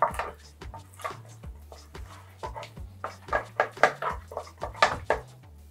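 Egg is stirred into choux pastry dough in a pan, a series of rhythmic scraping and knocking strokes of a spoon against the pan, close by and growing louder and sharper, with a low hum steady underneath.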